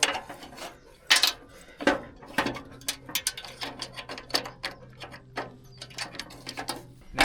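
Adjustable metal steps on a camper being reset, heard as a run of sharp clicks, clanks and ratcheting knocks spread irregularly over several seconds, close by with no talking.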